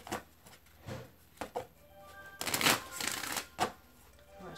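Tarot cards are riffled and shuffled close up, with a few separate flicks and taps before a longer burst of rapid, papery fluttering.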